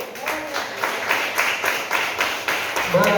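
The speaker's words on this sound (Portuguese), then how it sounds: "Você pode aplaudir o Senhor?" A church congregation claps in a steady burst of applause, rhythmic and fairly loud, sustained throughout.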